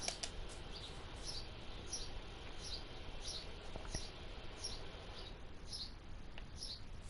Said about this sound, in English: Those birds are so fucking loud, man.